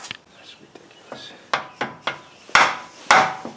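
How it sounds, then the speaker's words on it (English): A hammer strikes an axle being driven into a 2017 GMC Acadia, with about eight metallic knocks that start light and grow into sharp, ringing blows spaced roughly half a second apart. "Let's try to bang this axle in right now."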